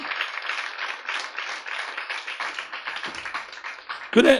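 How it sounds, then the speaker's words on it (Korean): A church congregation claps together during a sermon at a pastors' seminary service, a steady dense patter of many hands held at an even level for several seconds, with a brief louder burst near the end. "자, 박수로 주님께 영광 돌려요."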